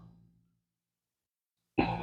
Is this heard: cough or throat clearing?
yes